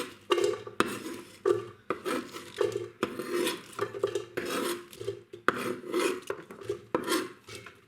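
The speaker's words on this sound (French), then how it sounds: "On découpe l'autre moitié du chou." A knife cuts through the other half of a cabbage on a board, crunching, scraping strokes repeating in an uneven rhythm, close and moderately loud with no voices.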